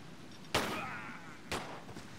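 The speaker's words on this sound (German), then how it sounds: "Ja, wow, jetzt schießt er nochmal" Two sharp gunshots in the video game Tomb Raider 3 crack about a second apart, the first louder with a brief ringing tail, against a quiet background.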